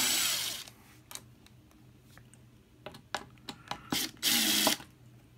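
A power screwdriver or small drill takes the corner screws out of the metal casing of a Mars Hydro 300W LED grow light panel, giving short whirring bursts with clicks and handling noises between them, and one longer whir near the end.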